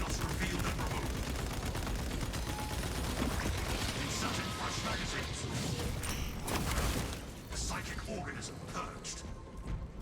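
Rapid automated turret gunfire in the Space Marine 2 video game, a dense continuous stream of shots layered with mechanical clatter and game effects, with voices talking over the din.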